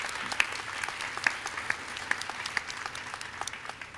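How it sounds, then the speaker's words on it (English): A round of applause at an EKG pinning ceremony for Freer and Premont High School students hosted by Del Mar College, steady mid-level clapping with scattered sharp claps throughout, no voices on top. "Give Del Mar College and Dr. Escamilla a big round of applause for hosting us tonight"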